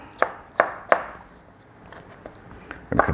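Knife chopping radish and cucumber on a board for salsa: three sharp, close chops in quick succession, a pause with softer taps, then a final cluster of cuts, with no talking.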